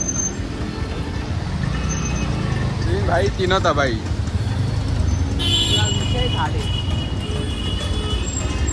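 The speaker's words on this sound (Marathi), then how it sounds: "ट्रॅफिक बघा इथं विठ्ठलवाडीला" Road traffic at Vitthalwadi keeps up a steady, close rumble with a few short horn toots mixed in, while people talk nearby over the din.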